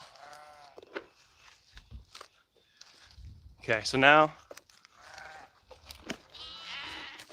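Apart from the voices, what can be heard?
sheep bleating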